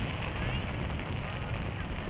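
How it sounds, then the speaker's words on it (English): A light rain shower falls over an outdoor youth soccer match, a steady broadband hiss with faint voices in the background. "Rain's slowing down a little bit, Randy."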